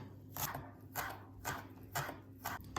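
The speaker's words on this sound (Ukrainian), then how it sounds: "Дрібненько наріжу зеленої цибульки." Knife finely chopping green onion on a board, five evenly spaced crisp cuts at a slow steady rhythm, close and quiet with no voices.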